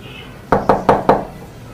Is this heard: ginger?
no